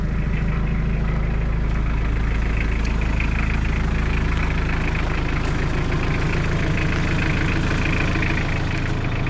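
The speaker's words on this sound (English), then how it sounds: "Engine seems like it's nice and tight." An Isuzu diesel engine swapped into a Suzuki Samurai idles steadily after a first start, a loud, continuous low rumble with a faint ticking knock, close up and without talk.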